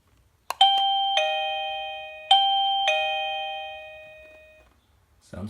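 An AlierKin wireless doorbell chime rings indoors with a clear, loud multi-tone melody of several struck notes, each ringing out and decaying, after a couple of short clicks, with quiet room tone around it.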